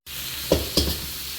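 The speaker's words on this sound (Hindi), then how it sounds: "तो अब हम इसमें ऐड करेंगे बॉयल चावल" Boiled rice added to cooked vegetables and chicken for a mixed vegetable pulao: two soft sizzling thumps as the rice drops in and is stirred, over a steady frying hiss.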